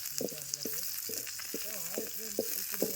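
Food frying in a pan until browned at an outdoor forest picnic, with a steady close sizzle and crackle throughout and a few brief tonal chirps over the hiss.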